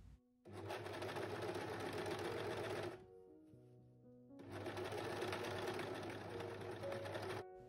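Sewing machine stitching a shirt seam at the sleeve, two sustained runs of fast, even mechanical whirring and needle clatter, close and loud, separated by a short pause.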